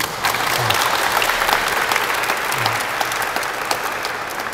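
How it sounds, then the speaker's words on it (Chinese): An audience at a signing ceremony between a marine science museum and NOAA in Keelung applauds, a full, even roar of clapping held steadily at close range for several seconds. "是不是大家可以给我们海科馆一个掌声"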